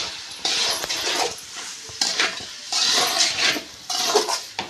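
A spoon scrapes and clatters against a pan while cooked rice is stirred into a tomato mixture, in repeated close bursts of scraping separated by short pauses.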